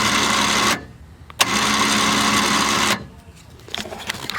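An XBULL 5000 lb electric winch on a Subaru Forester mount spools out cable with a steady, high motor whir in two long runs split by a brief pause, then falls quiet.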